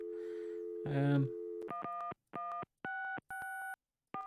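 In the Gabriel Knight: Sins of the Fathers adventure game, a voice is heard briefly, then a telephone plays a rapid sequence of six distinct touch-tone beeps.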